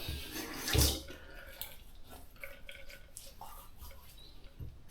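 Cold water splashes at a sink while rinsing the face after shaving, one loud close splash followed by quieter trickling and dripping water.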